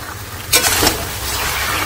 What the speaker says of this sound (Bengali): মশলা মাংসের সঙ্গে ভালোভাবে নাড়া দিয়ে নেব, দিয়ে মাংসের সাথে মিশিয়ে নেব